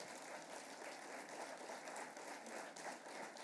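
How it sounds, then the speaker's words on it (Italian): Applause from an audience at a talk, coming through a remote connection, a steady faint wash of clapping with no speech over it. "Sento gli applausi"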